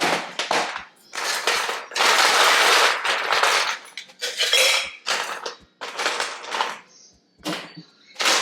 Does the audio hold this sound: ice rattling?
yes